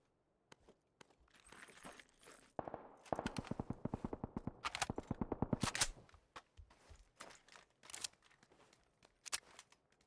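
An Uzi submachine gun fires in Night City within a video game, several sharp rapid bursts at moderate volume, the longest a dense rattling string in the middle, with scattered clicks and footstep-like taps around them.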